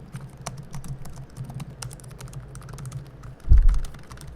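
Keys tap irregularly on an ultralight laptop keyboard, an LG Gram or Samsung Galaxy Book Pro, with light close clicks and one heavier thump near the end.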